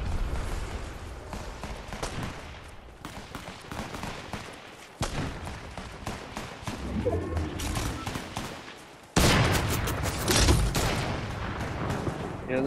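Distant and nearby gunfire as players battle in Fortnite, rapid crackling bursts and sharp shots in uneven clusters, with a louder stretch of firing toward the end.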